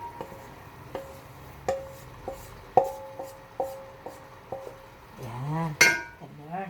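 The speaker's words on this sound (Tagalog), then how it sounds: "ihalo ko na ngayon ang tripe naman na isusute" A metal utensil mixing tripe in a pot for sautéing, Ilokano papaitan style: a series of sharp, ringing clanks at irregular intervals, close and fairly loud, followed by a brief voice near the end.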